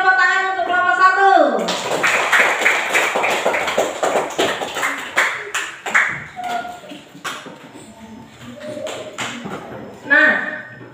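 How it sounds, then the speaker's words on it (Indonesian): A classroom group of students claps for a presenting team, a burst of close, uneven hand claps following a short musical chime, with a teacher's voice speaking afterward. "tepuk tangan untuk kelompok 1"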